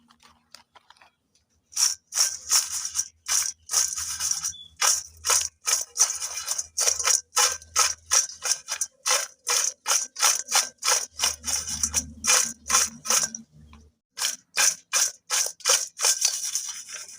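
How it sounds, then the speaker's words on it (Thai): Fried enoki mushrooms are tossed with paprika powder, giving a long run of rapid, crisp rattling bursts. The bursts come in steady rhythmic clusters, close and fairly loud, with brief pauses between them. "นำผงปาปิก้านี่นะคะ ลงไปคลุกเลยค่ะ"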